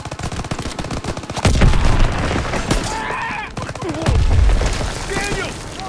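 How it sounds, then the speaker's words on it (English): Gunfire crackles steadily in a Rhine river battle in the video game Call of Duty WWII, punctuated by two heavy low booms from grenade explosions, loud and close, with shouting voices mixed into the chaos. "Tossing out a grenade!"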